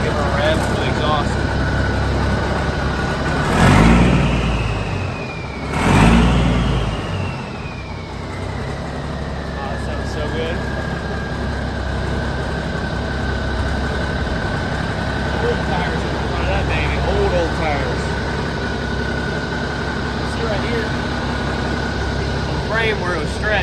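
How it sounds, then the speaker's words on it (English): An old Kenworth truck idles with a low, heavy rumble, then its exhaust roars through two short revs before settling back to a steady idle outdoors in the woods. "Give her a rev for the exhaust."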